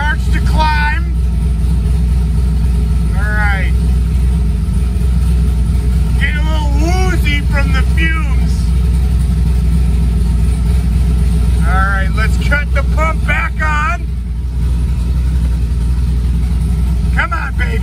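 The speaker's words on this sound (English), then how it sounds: "I'm idling in a well-ventilated space." A car engine idles steadily in a well-ventilated space with its cooling water pump switched off, a loud constant hum running throughout while someone talks over it.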